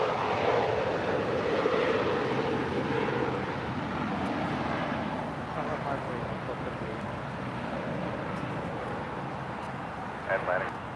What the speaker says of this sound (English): This Gulfstream 5 is coming in from St. Martin